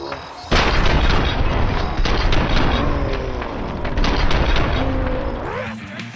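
Dense, loud gunfire and booming impacts in the video game RoboCop: Rogue City, layered with a game soundtrack and sustained through the whole stretch with no clear pauses.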